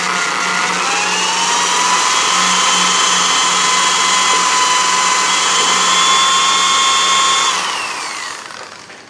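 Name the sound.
drilling a hole in hardware with oil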